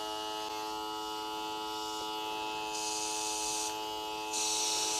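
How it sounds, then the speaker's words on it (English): An air-powered applicator mists ACF50 anti-corrosion spray onto a motorcycle with a steady hiss. The hiss rides over a constant whining, buzzing drone and gets louder in stages as the spray builds. "A light mist coming out."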